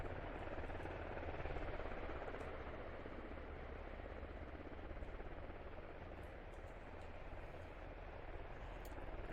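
Two military helicopters fly low and fast past a town in a competitive video game match, a steady loud rotor drone with broad engine rumble that holds evenly throughout.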